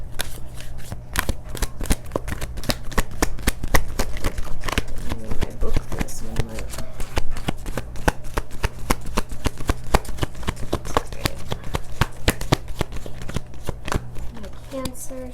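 Oracle cards riffled and shuffled by hand, close and busy with rapid repeated snapping flicks throughout over a steady low hum.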